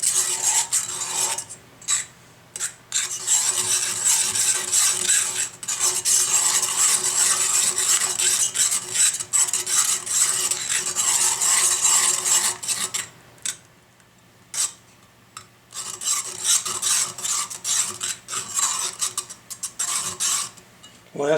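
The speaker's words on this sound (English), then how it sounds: "thickening it with the whisk" A whisk scrapes rapidly and continuously against a cast iron pan as butter melts into a beurre blanc sauce. The close, rasping strokes carry on with only a few brief pauses.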